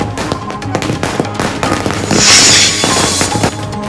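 Rapid crackling bursts of firecrackers going off at a Maratha community celebration in Pimpri Chinchwad, a continuous, dense string, loud and close, with a brighter hissing flurry partway through.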